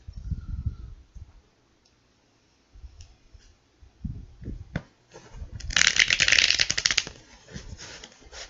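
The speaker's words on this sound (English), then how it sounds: "Alright, so I think we have about 3 more shuffles." Tarot cards are shuffled in short bursts of riffling and clicking, with a louder, longer riffle near the end, close up and otherwise quiet.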